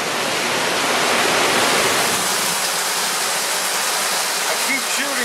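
Heavy thunderstorm rain pours in a steady, dense hiss close by, loud and unbroken, with no voices.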